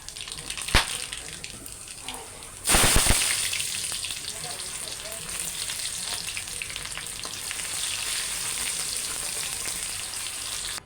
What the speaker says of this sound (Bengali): এখানে আমি কিছুটা কালো জিরা ফোড়নও দিয়ে দিচ্ছি